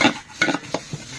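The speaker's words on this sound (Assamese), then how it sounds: "আচ্ছা মিক্স কৰা ধুনীয়াকে মিক্স কৰা" Jhalmuri ingredients, including puffed rice, onion and chilli, are tossed in a bowl with a spoon, making a few quick rustling, scraping strokes close by, with no voices.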